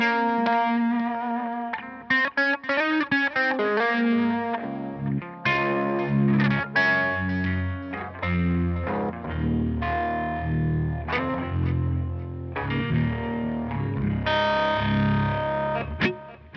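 Electric guitar played through the Minotaur overdrive on a Line 6 Helix, a mildly dirty, crunchy tone with chords and single-note runs, strummed and picked phrases with short gaps, close and unaccompanied by any voice.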